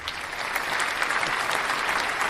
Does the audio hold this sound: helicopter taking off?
no